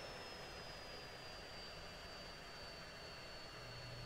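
A jet engine in the Falcon BMS flight simulator game runs up on the throttle before takeoff, a steady, fairly faint broadband roar with a thin high whine running through it.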